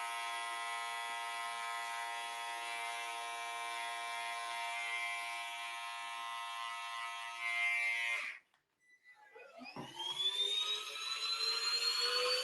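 An electric shaver buzzes steadily while trimming the pile of a tufted Pokemon rug, a loud close drone that stops briefly and then restarts with a rising whine.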